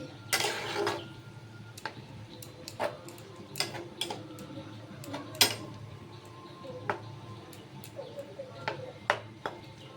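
A spoon scrapes and taps against a pan while kochur loti curry is stirred after water goes in, giving sharp, irregular clinks and knocks over a quiet kitchen background.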